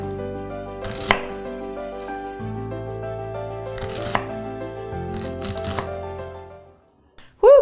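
A kitchen knife slices through a large onion on a cutting board, making three crisp, separate cuts spaced a few seconds apart over soft background music, with a brief louder sound at the very end.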